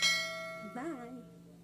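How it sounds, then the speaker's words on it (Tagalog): A single soft bell chime rings out and fades, followed by a short rising tonal flourish, faint and close. "click the notification bell"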